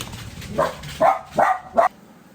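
A dog barks at someone passing on the road, four short close barks in quick succession against a quiet room.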